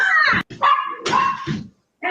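Puppies, including English bulldogs, bark and yip in a pet shop, several loud, close barks in quick succession with short gaps between them.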